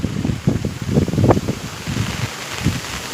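Heavy rain with strong wind batters a farm field near castor and cotton crops, a broad steady roar with gusty microphone buffeting and low rumbles throughout.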